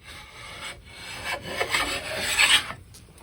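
A Veritas chisel plane with a freshly sharpened blade shaves across a wooden surface, making one continuous close rasping, scraping stroke that builds in loudness, with no talk.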